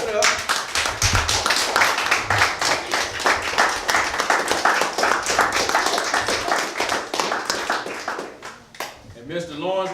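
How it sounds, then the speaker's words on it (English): Audience at a youth program event applauding steadily in a dense, lively round of clapping for an introduced guest, with a voice speaking over it as the applause fades. "Clap it up. Clap it up."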